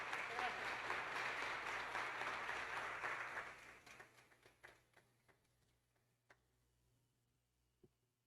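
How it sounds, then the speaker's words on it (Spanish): Audience applause after a talk on leadership and digital transformation: a dense burst of clapping that holds for about three seconds, then thins into a few scattered, isolated claps before fading out. "Un aplauso para Jorge Wills"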